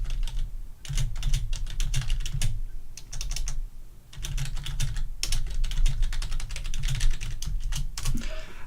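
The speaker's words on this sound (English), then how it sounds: "I'm just typing this to you." Rapid bursts of typing on a computer keyboard, close and crisp, come in runs of clattering keystrokes separated by brief pauses, with a low hum underneath.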